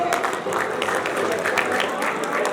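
A crowd at a Lohri celebration in Faisalabad claps steadily, a dense, even wash of applause that holds at the same loudness from start to finish.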